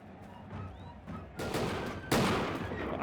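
Flintlock musket shots in a Mount & Blade II: Bannerlord battle set around 1700, a few sharp cracks building in loudness, the last report loudest and trailing into rumbling battle ambience.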